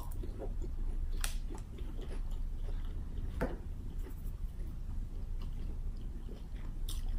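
Crunchy Panda Express Chinese food being chewed close to the mic, with a steady run of soft bites and a few sharper crunches over about seven seconds, no talking.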